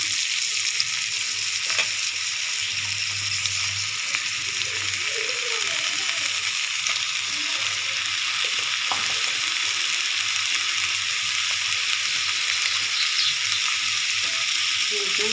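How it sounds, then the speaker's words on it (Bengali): Bottle gourd greens tipped into a pan of boiled new potatoes, frying with a steady continuous sizzle and occasional stirring clatter, close and moderately quiet. "এখন শাকগুলো ঢেলে দেবো।"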